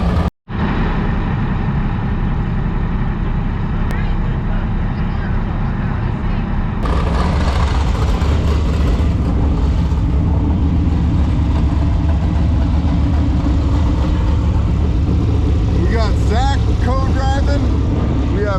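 A Class 1 desert off-road race car roars along continuously, its engine loud and close throughout, with a harsher, rising surge partway through.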